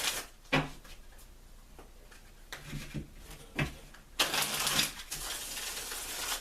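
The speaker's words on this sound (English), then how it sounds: "I love the way this deck shuffles." A tarot card deck is shuffled by hand in quick riffles and soft slaps, close up, with brief pauses between bursts of papery flutter.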